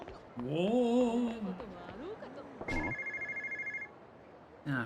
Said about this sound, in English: Ah, found the payphone